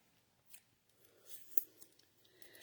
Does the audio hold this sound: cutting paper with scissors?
yes